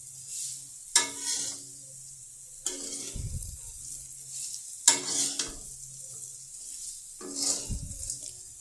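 Dhokli is stirred into a sizzling spiced oil tempering in a pan. Sharp spoon scrapes recur every few seconds over a steady close frying hiss, with no one speaking.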